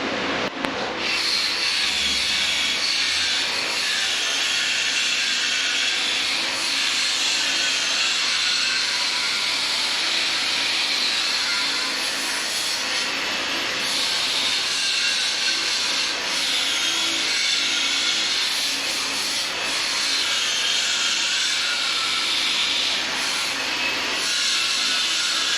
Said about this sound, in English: We're going to use the regular 4-inch, 5-inch grinder with a nice little flap wheel to get it nice and smooth and pretty.